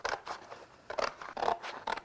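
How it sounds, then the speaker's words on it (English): Scissors snipping through thin gasket material for an air nailer repair, four or five crisp close cuts in quick succession with brief pauses between. "You just cut it with scissors"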